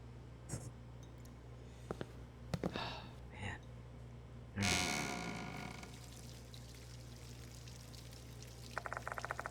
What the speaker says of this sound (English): Sound of water coming from the toilet?